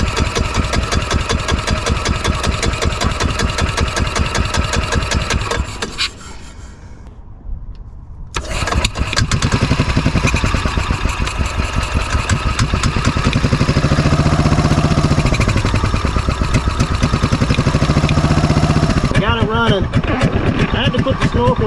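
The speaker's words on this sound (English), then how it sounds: "Just gonna sit here and let it run for a little bit" Gas engine of a 2003 Club Car DS golf cart, previously seized, chugs loudly with a rapid putter, cuts out briefly, then restarts and runs on steadily; speech can be heard in places over the running engine.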